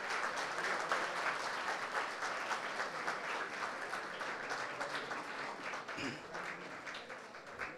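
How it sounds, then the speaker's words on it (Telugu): Audience applause fills a college event hall in Madanapalle, a dense, steady clatter of many hands clapping for several seconds, easing slightly toward the end. "ఒకసారి గట్టిగా చప్పట్లు"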